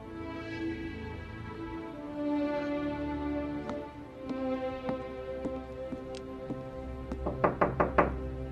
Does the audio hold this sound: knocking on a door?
yes